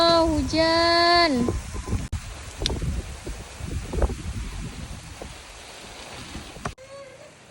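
Rain begins to fall outdoors as a light, not-yet-heavy shower, a soft patter and rustle under wind noise, with a brief high tonal sound at the start and short bumps scattered through.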